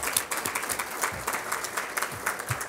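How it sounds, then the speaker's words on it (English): A lunch forum audience gives a round of applause, a moderate crowd clapping continuously at medium distance with no talk over it. "Let's round of applause"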